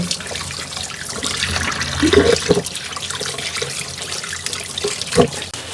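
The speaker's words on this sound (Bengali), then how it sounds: "শুটকিগুলো এখন ধুয়ে নিব সুন্দর পরিষ্কার করে" Dried fish is rinsed under running tap water, producing a steady close splash and trickle with occasional louder sloshes and handling knocks in a sink.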